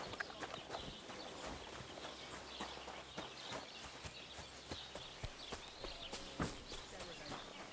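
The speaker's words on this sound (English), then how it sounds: "Some horses over here." Horses' hooves clip-clopping in the medieval video game Kingdom Come Deliverance 2, a steady run of faint, irregular hoof knocks near the player, with soft ambient background and occasional birdsong.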